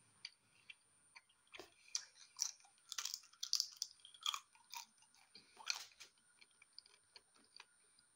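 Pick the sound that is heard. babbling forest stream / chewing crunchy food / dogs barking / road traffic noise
chewing crunchy food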